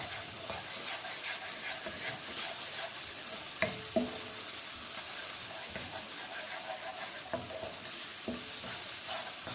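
Ginger garlic paste and onions frying in a pan for butter chicken, a steady moderate sizzle with soft crackles and a few light clinks of stirring.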